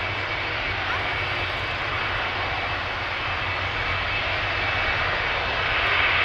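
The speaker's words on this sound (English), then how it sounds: "KLM Embraer 190 in the Sky Team livery. We saw it land here earlier on runway 27, it's now leaving again." A KLM Embraer 190 jet in Sky Team livery departs Amsterdam Schiphol Airport. Its engines give a steady, broad roar at a moderate distance that swells slightly toward the end.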